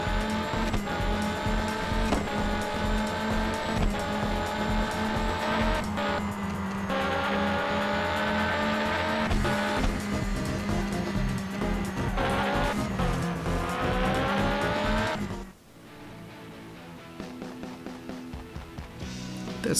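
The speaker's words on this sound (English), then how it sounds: "So this should be a Porsche 911 GT1." A Porsche 911 GT1 race car in a video game intro, its engine roaring loudly and continuously with shifting revs and tire squeals, then dropping away near the end to quieter scattered sounds.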